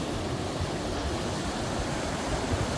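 White River floodwater rushes steadily over a road blocked with large sandbags at Oil Trough, Arkansas, a dense, continuous roar of moving water with no pauses.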